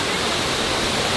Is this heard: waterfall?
yes